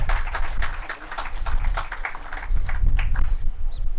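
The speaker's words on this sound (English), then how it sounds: "I think we deserve to give them a big round of applause for that." An audience applauds at the opening of a new medical sciences college building, with steady, dense clapping that holds at a fairly even level throughout.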